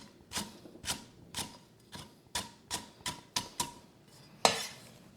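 A knife chopping lemongrass into small pieces on a board, about ten crisp, evenly spaced chops close by, with one sharper knock near the end.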